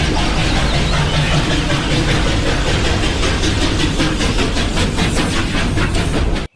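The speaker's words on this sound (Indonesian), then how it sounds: "Widih, ada kereta api ekspres." A toy express train makes a loud, continuous rattling rumble with a faint rhythmic clatter, holding steady for several seconds before cutting off abruptly.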